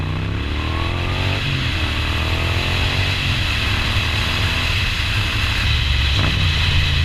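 A Moto Guzzi V9 motorcycle's exhaust note rumbles loud and steady with low engine drone, rising in gentle revs while slowing toward a stop, alone with no talk.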